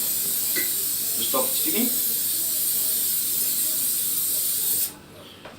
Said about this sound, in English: we've got a sprayer today, so we're going to spray the pan